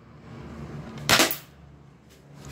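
A single sharp snapping shot from an airsoft spring sniper rifle (L96) cracks out once against a quiet background, followed by a faint click moments later.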